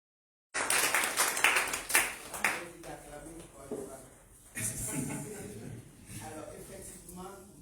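An audience at a French wellness product presentation breaks into a short burst of clapping that quickly fades away. A voice talks over and after the applause.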